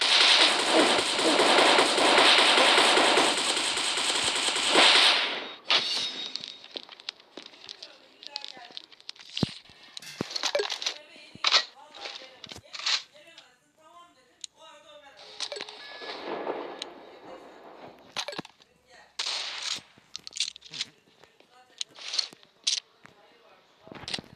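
Gunfire from the shooting game Pixel Gun 3D comes through as a dense, loud burst of continuous fire, then scattered sharp shots and crackles, with a person talking in between.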